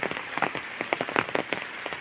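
Steady, dense patter of heavy rain striking a surface, with close drops landing continuously and no voices.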